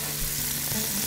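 Onions frying in neutral, odorless oil in a pan while being stirred, a steady close sizzle with soft stirring scrapes, no talking.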